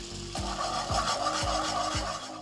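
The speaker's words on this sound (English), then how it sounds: "I have my heavy cream in my left hand, and I slowly whisk it in" A whisk scrapes rhythmically against a pan as heavy cream is stirred into a pork chop pan sauce with pink peppercorns, about four even raspy strokes, close and clear with no speech.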